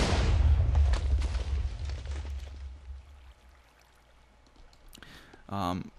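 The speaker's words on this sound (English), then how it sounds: "More fun things such as a TNT cannon." A deep, heavy blast from a TNT cannon explosion in Minecraft rumbles loudly, then fades away over a few seconds, followed by a brief voice near the end.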